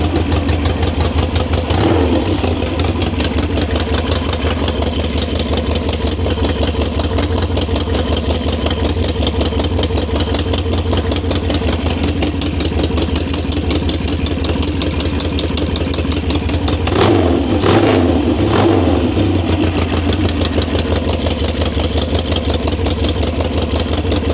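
A motorcycle engine idles steadily in a motorcycle shop with its battery hooked up, running without being ridden; a continuous mid-pitched idle with a brief rev or two partway through, no talking.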